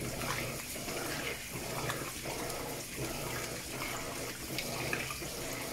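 Electrolux washing machine taking in a large volume of water on the heavy cycle at extra-high level, a dense, continuous gushing and splashing that pulses gently as the drum fills, with no voices.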